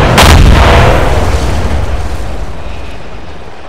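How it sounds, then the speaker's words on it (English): A large demolition explosion goes off in the military video game ARMA 2, a single heavy, loud boom followed by a long rumbling decay. "Preparing to detonate."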